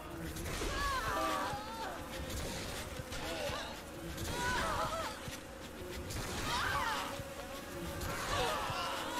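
Bees buzz in Saints Row the Third, a steady insect drone running through the whole stretch beneath game sounds and voices, swelling slightly in waves.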